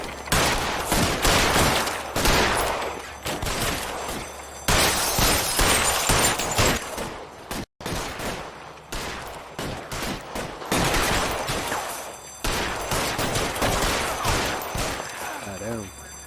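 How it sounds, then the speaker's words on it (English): A shooting breaks out in rapid volleys of loud gunfire, dense bursts of shots and crackling impacts repeating for several seconds with brief pauses, with voices talking over the shots. "Oh damn, another shooting."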